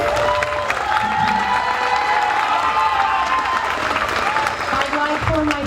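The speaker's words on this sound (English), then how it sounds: "let's give them a round of applause too, please." Sustained loud clapping from a concert audience applauding a school orchestra at a fall concert, with scattered cheers and voices mixed into the ovation.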